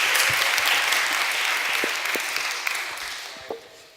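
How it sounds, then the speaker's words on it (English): Audience applause opens a panel discussion on developer career progression at the PyCon UK 2017 conference, a dense round of clapping from a room full of people that thins out and fades toward the end. "let's start with a big round of applause."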